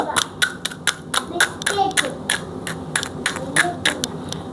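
Crisp fried panipuri shells cracked open by hand, giving a run of sharp, dry crunchy snaps in quick irregular succession, close and fairly loud over faint background noise.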